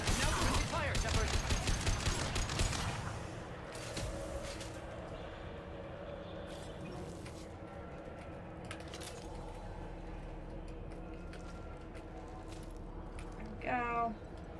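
Gunfire in the video game Mass Effect 2, a dense burst of rapid shots at the start fading into quieter in-game ambience with scattered sharper hits.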